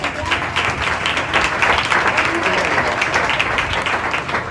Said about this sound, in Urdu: ہم تمام فادرز کے لیے بھرپور تالیاں بجائیں۔